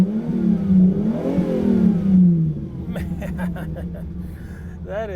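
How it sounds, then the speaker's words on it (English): A Ferrari 365 GTC/4 engine revs hard through its loud exhaust, rising in pitch and then dropping away as the throttle eases, with someone talking over the latter part. "Man, that is one hell of a loud exhaust."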